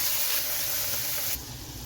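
Turmeric-and-salt boiled chickpeas go into hot oil in a pan, giving a steady loud sizzling hiss that drops abruptly to a quieter sizzle near the end.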